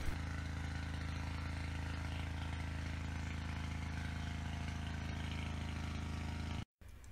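A loud, steady old Lombardini diesel engine running a water pump drones with a throbbing low rumble, then cuts out abruptly near the end before resuming briefly.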